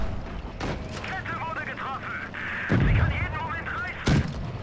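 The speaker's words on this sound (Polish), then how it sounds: "Jeszcze strzał, ale tym razem nie trafiłem." Tank cannons fire in World of Tanks Blitz, with a Pz V/IV in play: several heavy booming shots ring out over the game's engine rumble and battle noise, with someone talking over the action.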